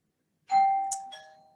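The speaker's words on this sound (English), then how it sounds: "So I apologize for the doorbell." A doorbell chimes indoors with a clear electronic ding-dong, two tones ringing out and sustaining, fairly loud and close with no talk over it.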